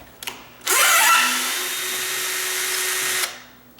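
A power drill drives a screw into a sagging door: a short tap, then a loud, close, steady whine of about two and a half seconds that rises at the start and stops abruptly, with no talk.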